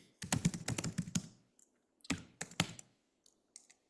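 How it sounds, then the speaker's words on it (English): Someone types on a computer keyboard in bursts of quick clicking keystrokes, a dense run, a pause, then another flurry and a few scattered taps, close and fairly quiet. "I don't know why I'm typing it in."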